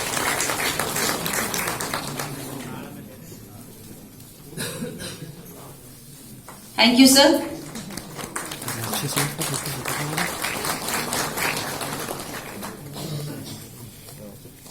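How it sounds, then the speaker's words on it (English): A crowd claps in a scattered patter at a university talk, fading and then rising again, while someone briefly speaks over it. "A big round of applause, ladies and gentlemen."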